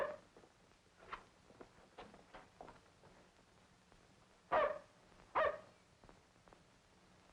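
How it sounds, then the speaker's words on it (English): A dog gives a series of faint, scattered barks, then two loud, close barks a moment apart, with quiet pauses between. "But you can't let him bark."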